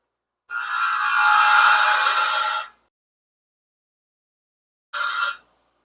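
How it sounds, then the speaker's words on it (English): Grinder biting into the electrode of an old spark plug: one loud, steady grinding burst of about two seconds, then silence and a short second grind near the end, with no talk. "I'm just going to grind the electrode off of here."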